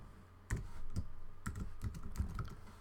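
Quiet, close keyboard typing, a handful of separate key clicks and taps spaced irregularly over a few seconds.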